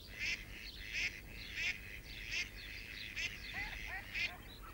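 Mallard ducks in an Alicante natural area call in a series of repeated loud quacks and honks at a steady rhythm, with no voices over them.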